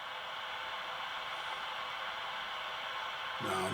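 Steady hiss of white noise static from a Realistic TRC-427 CB radio on channel 19, continuous and even throughout, swelling slightly louder at the very end.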